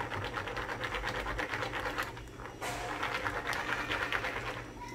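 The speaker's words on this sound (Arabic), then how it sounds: "نخلط مزيان مزيان." Cake batter with almonds and raisins is stirred vigorously, giving a continuous wet, scraping, churning rhythm close by, with a brief dip in the middle before the mixing resumes.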